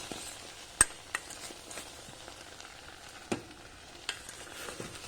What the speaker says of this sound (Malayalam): ഇപ്പോൾ നമ്മുടെ നെല്ലിക്ക നല്ലതുപോലെ വറ്റി വരുന്നുണ്ട് നമുക്കൊന്ന് ഇളക്കി നോക്കാവേ